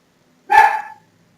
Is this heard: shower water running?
no